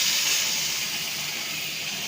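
Potatoes dropped into hot oil with bay leaf, dried chilli, whole garam masala and cumin, giving a steady, loud hiss of frying that holds evenly throughout.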